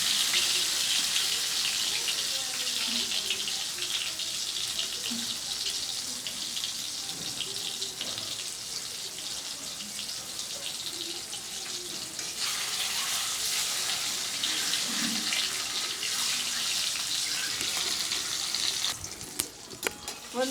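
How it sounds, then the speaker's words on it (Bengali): Eggs frying in hot oil in a pan, a steady broadband sizzle and crackle running continuously throughout, fairly loud and close, with no talking. "এবার আমি তেলের মধ্যে ডিমগুলো দিয়ে দিচ্ছি। ডিমগুলো বেশি লাল করে ভাজবো না"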